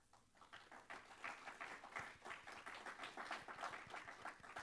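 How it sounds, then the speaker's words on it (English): A small audience gives a soft, polite golf clap to welcome a speaker at a church gathering. Many light claps blend into a quiet, continuous patter that runs through the whole clip, with no voices. "Golf clap, golf clap."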